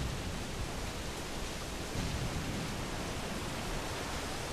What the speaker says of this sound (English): It's storming, everybody.